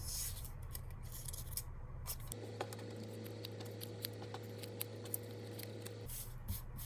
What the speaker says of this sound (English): cut them into smaller pieces, about the size of your thumb